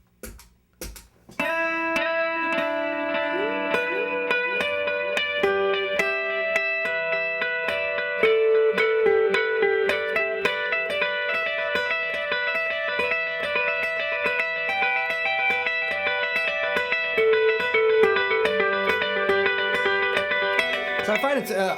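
Electric guitar run through a clean echo delay effect in an indie rock style, a steady stream of ringing repeated notes layered into a sustained, shimmering wash that plays on alone throughout.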